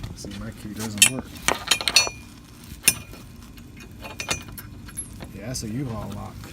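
Keys jangle and clink in bursts against a truck door fitted with a U-Haul lock, loud and close, with short metallic rattles and pauses between attempts and someone talking over part of it.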